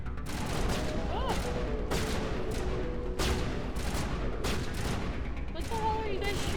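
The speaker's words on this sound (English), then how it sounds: "What the hell are you guys shooting at?" Repeated gunshots from Mass Effect, a steady rattling exchange of fire with sharp cracks and booms throughout, loud and close, with faint game voices beneath.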